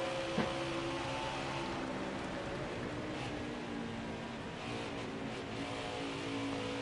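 Race car engine from the NASCAR Heat 5 game roars steadily at high revs, a continuous loud drone with shifting harmonic tones as the car runs through traffic on the track.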